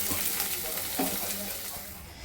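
Green chilies frying with leftover rice in a pan, a steady close sizzle with soft stirring scrapes and a brief clink, no talking.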